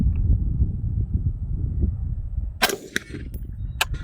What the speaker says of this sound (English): let's go ahead and see if we can shoot some steel at 100 yards